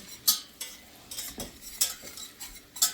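Ingredients for a mushroom Swiss pasta stirred in a pan over lowered heat: a spoon scrapes and clatters in repeated strokes, with a soft sizzle underneath and no voices.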